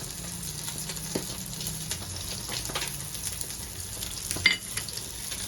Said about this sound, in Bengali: এবার আমি কাঁচা সর্ষের তেলটা দিয়ে দেবো।